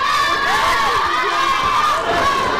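Rowdy wrestling crowd at American Top Team Altitude yelling and cheering in unison, a loud, continuous chant-like roar of voices with rising and falling pitch throughout.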